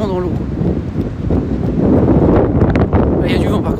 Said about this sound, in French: Il y a du vent par contre.